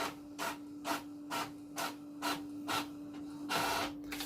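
An Epson L6170 ink-tank printer runs off plain black-text pages, its print head sweeping back and forth in a steady series of short, close rasping passes with a constant motor hum underneath and a longer whir at the end.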